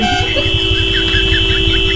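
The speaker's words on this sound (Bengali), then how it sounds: "হর্ন মারো তো বলো, হর্ন মেরে একাকার করে দেবো।" A vehicle horn blares continuously and loudly up close, a sustained steady tone over the rumble of an engine, with no one speaking.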